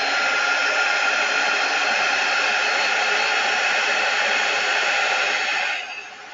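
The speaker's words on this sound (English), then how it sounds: "I'm going to plug in my quick dry tool." A quick dry heat tool used for chalk transfer crafting blows loudly and steadily as a continuous airy roar, then cuts out and fades in the final half second.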